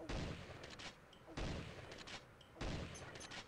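Three sniper rifle shots in the mobile shooter Pixel Gun 3D battle royale, loud booming cracks evenly spaced about a second apart, each with a short decaying tail.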